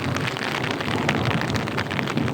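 Heavy rain pours down in a village, a dense, steady hiss of drops close by, with no voices.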